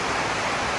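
Heavy rain pours down at a school in a dense, steady hiss, loud and close, with no gaps and no voices.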